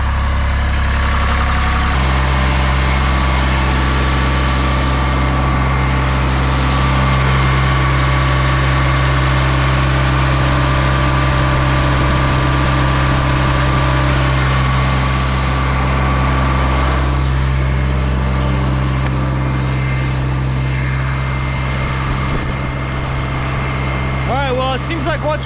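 Engine of a dual drum vibratory roller rising from idle to a higher, steady throttle, a loud continuous close-up drone with a strong low hum throughout.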